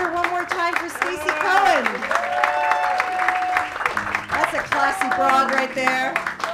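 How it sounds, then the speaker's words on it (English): Audience applause and clapping at a live stage show, a steady sustained wash of claps mixed with loud tonal sound and voices throughout. "Let's hear one more time for Stacey"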